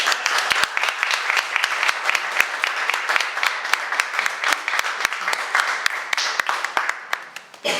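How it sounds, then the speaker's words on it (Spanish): Audience applause at a Spanish-language book presentation for La mala víctima, a dense, steady patter of many hands clapping close and loud for nearly eight seconds, tapering slightly at the end. "pido un aplauso"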